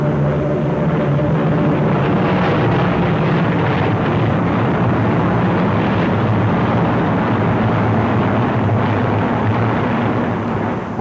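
WWII fighter aircraft flying in formation at altitude, with the rear planes weaving; a steady, loud, dense engine drone with a low propeller hum runs unbroken throughout.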